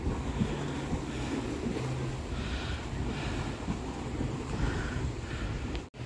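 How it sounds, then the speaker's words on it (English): Steady rushing of lake water and waves washing against rocks, with wind buffeting the microphone throughout and a sharp bump near the end. "Yeah, the waves crashing."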